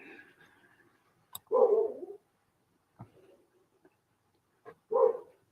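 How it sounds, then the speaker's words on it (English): A dog gives two short, deep barks a few seconds apart, fairly close, with quiet gaps and a few small knocks between. "Now the dog's going to start barking"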